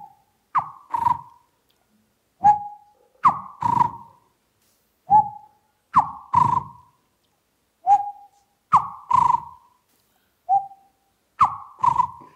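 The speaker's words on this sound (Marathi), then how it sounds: "ओरिएंटल स्कॉप्स आऊल नावाचं घुबडं फार महत्त्वाची आहेत आणि हे 3 सिलॅबलचा एक आवाज काढतो ही घुबड." An Oriental scops owl gives its three-part call, repeated about eight times in a steady rhythm with short pauses between phrases. The calls sound clear and fairly close against an otherwise quiet background.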